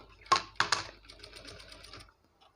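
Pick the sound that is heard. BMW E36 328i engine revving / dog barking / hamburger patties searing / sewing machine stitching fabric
sewing machine stitching fabric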